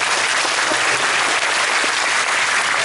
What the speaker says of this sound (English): You can applaud for her, it's okay